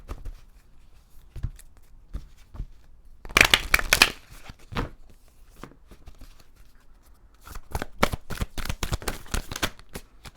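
A Moonology oracle card deck is shuffled in bursts of crisp, papery riffling, a loud flurry early on and a longer run of rapid card slaps near the end, with quiet handling between.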